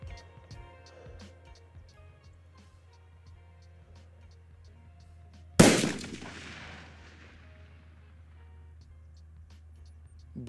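A single loud crack from a precision rifle fired off a bipod while zeroing, followed by a long decaying echo, with faint steady ticking and a low hum before the shot.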